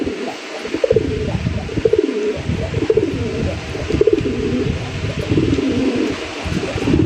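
Male Rajgolla pigeon at a pigeon market giving repeated deep, rolling coos in close, loud phrases, with other pigeons faintly cooing around it.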